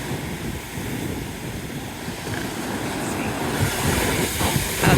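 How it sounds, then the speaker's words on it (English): Big waves wash and splash against a sand cliff at Navarre Beach, a continuous rough surf roar mixed with strong wind buffeting on the microphone. "We can catch the water splashing on it."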